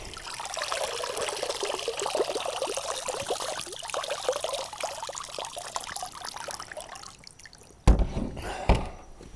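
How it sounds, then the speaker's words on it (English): Water streams and trickles off a solar wireless long-range underwater ROV as it is hauled out of the water, a steady close splashing dribble for about seven seconds that fades, then two sharp thumps as the drone is handled. "Let's bring this thing out of the water again."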